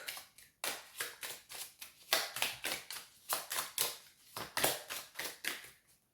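A deck of tarot cards being cut and shuffled makes loud, close, rapid bursts of riffling and slapping, a dozen or more quick flurries in a row with no talking.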